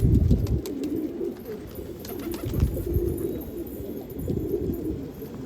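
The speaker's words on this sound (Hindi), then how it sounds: "सारे के सारे लड़ाकू कबूतर है" Fighter pigeons cooing steadily in low, throaty murmurs, several birds overlapping close by on a rooftop, with soft fluttering and rustling.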